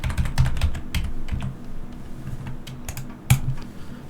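Quick, irregular keystrokes on a computer keyboard as a password is entered, a close run of crisp clicks with a sharper tap near the end, no talking.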